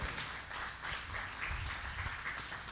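A church congregation applauds during a sermon, a steady, even wash of many hands clapping together that holds at a moderate level without a break.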